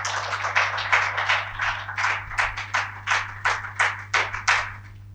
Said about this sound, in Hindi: जोरदार बजा देते आप ताली।